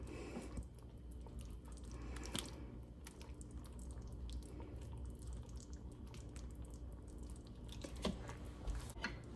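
Juice draining off shredded crockpot barbacoa beef, soft wet squishing and dripping close by, quiet and continuous with a few sharper splashes, no talk.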